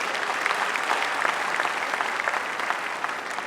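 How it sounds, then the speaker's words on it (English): Crowd applause at a LASU honorary doctorate ceremony, a continuous dense patter of many hands clapping, steady and fairly loud with occasional crisper claps. "I think Lasu deserves a round of applause"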